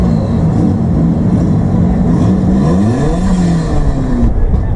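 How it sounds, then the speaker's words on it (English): A car engine running loud and close, its droning note rising and falling as the revs climb and ease back, with a continuous rough roar throughout. "There's also a little clip of my car when it was running"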